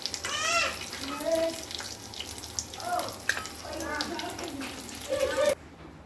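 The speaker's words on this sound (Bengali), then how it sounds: "মাছটা আমার একদিকে ভাজা হয়ে গেছে, আর একটা দিক হয়ে গেলে আমি মাছটা নামিয়ে নেব" Rohu fish frying in oil gives a continuous low sizzle and bubbling under a voice talking throughout, with a few scraping utensil sounds.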